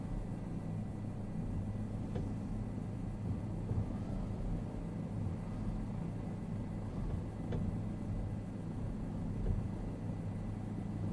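Bell 407 helicopter in Microsoft Flight Simulator, a steady low engine and rotor drone that holds constant throughout with no voices over it.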